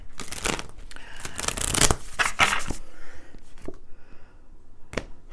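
Quick riffling and snapping of playing cards being shuffled, several rapid bursts followed by a few sparse taps as the deck settles.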